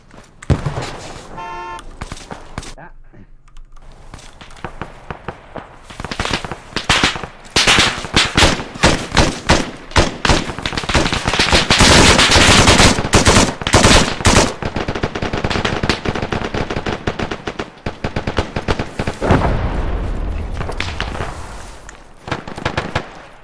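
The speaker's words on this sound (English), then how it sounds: "We're taking sniper fire." Video game combat with dense automatic gunfire, rapid bursts and single shots loud and close, building to a sustained heavy barrage midway before easing off.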